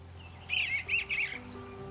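Birds calling in spring, a run of bright chirping notes repeating over about a second at moderate distance, with faint background hum before and after.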